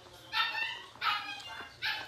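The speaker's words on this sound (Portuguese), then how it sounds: "minha cachorra tá latindo" A dog gives three high, yelping barks roughly a second apart, moderately close, with quiet room background between them.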